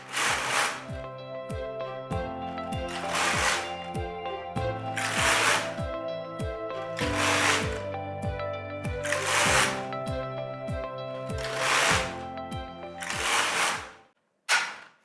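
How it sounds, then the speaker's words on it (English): Singer Solo hand knitting machine carriage sliding back and forth across rows, about eight repeated swishing passes with clicking needle clatter, close and steady, ending with a short pause and final stroke. "so now I can continue knitting for as many rows as I want my normal knitting to be, and in this case I'm going to knit 20 rows"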